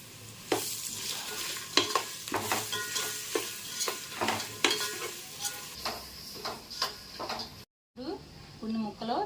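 Masala paste of coriander powder, cumin and garam masala sizzles and fries in a pan for a chicken curry, with repeated scraping stirring strokes throughout, close and fairly loud, then a brief gap before a little more stirring.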